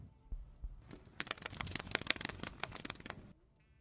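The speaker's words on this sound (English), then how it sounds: "Typing sounds." Rapid typing on a keyboard makes a quiet flurry of sharp clicks and clacks lasting about two and a half seconds, with no voices.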